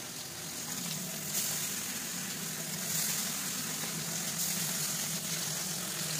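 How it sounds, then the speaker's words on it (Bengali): Dried fish frying in hot oil in a home kitchen makes a steady, dense sizzling hiss that holds evenly throughout, close and unbroken. "এখন আমি তেল গরম করেছি। এই মাছটা আমি এখন দিয়ে দিব।"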